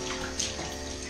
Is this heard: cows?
no